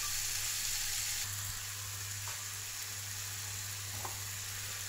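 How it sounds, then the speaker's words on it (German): Stuffed mushrooms fry in a pan with a steady, close sizzle, briefly louder at the start, then settling to an even crackle with a few soft stirring clicks. "Ich muss das auch nochmal kurz anbraten."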